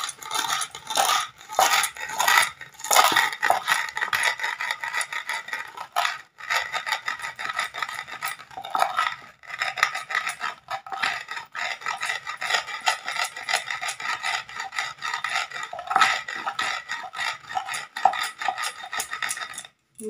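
Coriander, cumin and dried chilli are ground by hand on a cooled roti griddle, giving irregular raspy scraping and rubbing strokes with small clinks, fairly close and continuous with brief pauses.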